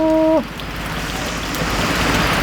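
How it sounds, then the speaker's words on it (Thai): Heavy morning rain pours down in a steady, dense hiss that follows a brief tonal beep at the start and continues loud and unbroken with no talk. "ฝนตกแต่เช้าเลยมื้อนี้"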